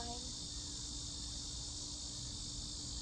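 Loud insects, likely crickets, buzz outdoors in a steady, continuous high-pitched drone that fills the whole stretch at constant level.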